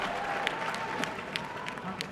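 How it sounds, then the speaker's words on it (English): Audience applause at a comedy awards show: a thin, moderate patter of clapping from a crowd, with a few sharper individual claps popping out and faint voices mixed underneath. "Can I have some more tepid applause, please?"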